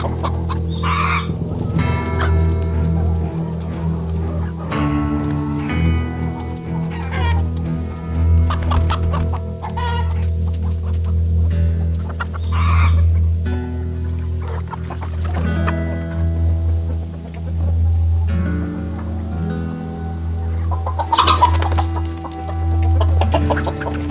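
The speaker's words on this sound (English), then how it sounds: "The chickens are unusually noisy." Chickens cluck busily and repeatedly, close by, with occasional sharper squawks and a steady low hum underneath.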